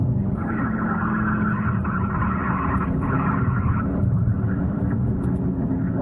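A loud, steady engine roar of a BMW M3 driving hard, constant and close, without breaks or talk.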